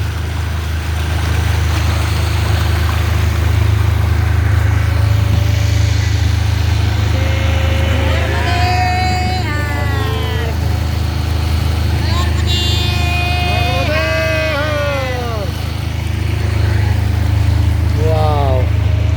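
A motorboat carries passengers across the Narmada at Sardar Sarovar, its low engine drone steady and close throughout while people talk over it.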